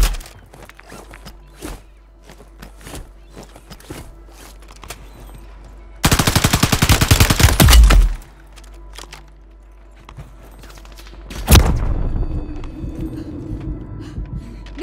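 Automatic gunfire in Call of Duty Warzone 3 rattles out in a loud sustained burst mid-clip, followed by another sharp blast, with scattered footsteps and lighter clicks around it.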